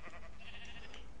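Sheep bleating in the video game Minecraft, a few short overlapping bleats over steady game background noise at moderate loudness, with no talk.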